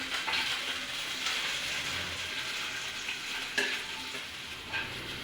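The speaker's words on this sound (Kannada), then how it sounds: "ಇಲ್ಲಿ ನಾನು ಬೆಳ್ಳುಳ್ಳಿ, ಈರುಳ್ಳಿ, ಮೆಣಸಿನ್ಕಾಯಿ ಮತ್ತು ಕರಿಬೇವು ಫುಲ್ ಅದನ್ನು ಎಣ್ಣೆಯಲ್ಲಿ ಸ್ವಲ್ಪ ಹಸಿ ಸ್ಮೆಲ್ ಹೋಗೋ ಥರ ಫ್ರೈ ಮಾಡ್ಕೊತೀನಿ" Garlic, onion, green chili and curry leaves frying in hot oil, a steady close sizzle with occasional scrapes and stirring clatters from a spoon in the pan, no voices.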